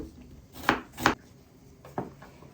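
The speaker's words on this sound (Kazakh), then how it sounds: "Жуаны майды көбейтіп тураймыз." A knife chops red onion on a board in a home kitchen, three separate sharp chops, fairly close, with quiet pauses between them and no talking.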